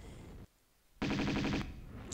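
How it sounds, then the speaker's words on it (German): Rapid-fire gunshots from a weapon in a video game, a dense, loud burst of about half a second rattling in quick succession after a brief near-silence, with game ambience around it. "Da kann ich sogar mehr Schüsse abfeuern."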